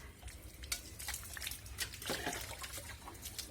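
Faint splashing and trickling as an earthworm is dropped into a small amount of water, a few soft liquid movements and drips, close and quiet without talk.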